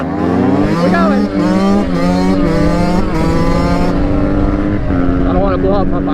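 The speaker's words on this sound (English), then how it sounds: "We got the race quad, 430cc." A 430cc race quad engine roars loud and close at a busy lot, its pitch climbing and dropping through several revs and gear changes.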